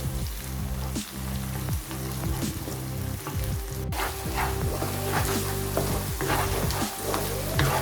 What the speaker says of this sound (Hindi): अब हम इसमें जिंजर गार्लिक पेस्ट ऐड करेंगे और भूनेंगे।